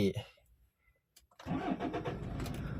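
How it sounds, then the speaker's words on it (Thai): A 2013 Toyota Fortuner 3.0V diesel engine cranks briefly after a pause, then catches and settles into a steady, close, loud idle rumble; someone talks just before. "เดี๋ยวผมสตาร์ทเครื่องให้ดูนะครับ"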